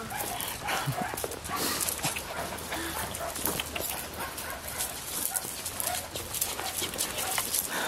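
Three dogs bark, yip and whimper close by in an excited, overlapping jumble that continues throughout.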